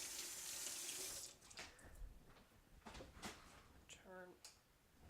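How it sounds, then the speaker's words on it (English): A kitchen tap runs for about a second while hands are washed, followed by splashing, dripping and light handling clatter at the sink, close and quiet. "So, first gotta wash all this off my hands."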